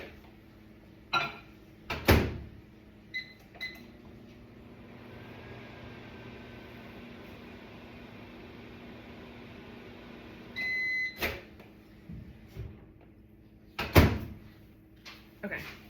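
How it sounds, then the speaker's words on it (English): A microwave oven heats salt water for about ten seconds, running as a low steady hum between sharp clicks and clunks of the door and buttons, with a few beeps. "I'm just gonna put this in for like, in the microwave for like 10 seconds,"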